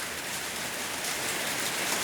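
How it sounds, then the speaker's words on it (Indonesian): Steady rain falls outdoors as raindrops patter in a continuous, even hiss while a Samsung Galaxy S20 FE phone is reviewed; no voice is heard. "Kalau ada suara rintikan-rintikan air hujan ya dimaklumin aja ya teman-teman"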